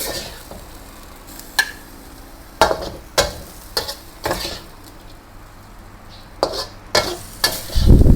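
Beef stir-fried dry with holy basil and dried chili, no oil, in a pan: a steady sizzle under repeated loud scrapes and clanks of a spatula against the pan, close up.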